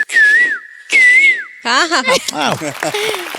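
A man whistles a bird-call imitation on a stage show: two sustained warbling whistled notes followed by rapid, trilling chirps and swoops, loud and close.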